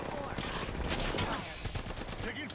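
Rapid gunfire bursts from a first-person shooter video game with shields and arc stars, dense overlapping shots filling the clip at steady loudness under players talking.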